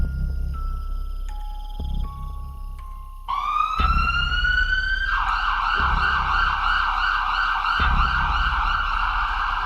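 An ambulance siren wails close and loud, first in stepped tones and then settling into a repeating rising-and-falling pattern that carries on steadily, with no one talking over it.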